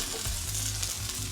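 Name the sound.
onions sizzling in a wok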